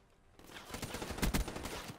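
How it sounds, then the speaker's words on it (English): Burst-fire weapon shooting in Black Ops 3 gameplay, with rapid clusters of gunshots rising in loudness and two especially sharp, close bursts in the middle, followed by trailing scattered fire. "there's a burst fire weapon just camping it out"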